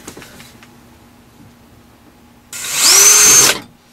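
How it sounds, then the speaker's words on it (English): Power drill boring holes into an RV rooftop air conditioner cover on a Forest River pop-up camper, a loud, close whir that ramps up and holds for about a second after quiet handling noises. "drilling holes as you go along"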